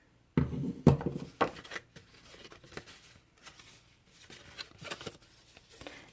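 A handheld paper punch snaps through a card flap with a couple of sharp crisp clicks near the start, followed by quieter paper shuffling and light handling sounds.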